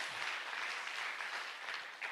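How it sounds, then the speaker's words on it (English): Audience applause at a memorial gathering, a dense, steady wash of clapping from many hands that holds evenly for the whole stretch without voices. "I think I want a big clap for this."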